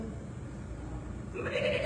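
A person mimics a goat's bleat with a wavering, nasal cry that swells louder toward the end, delivered alone and close up during an Indonesian sermon.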